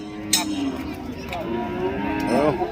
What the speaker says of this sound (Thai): อันนี้วัวสาว อันนี้แยกลูก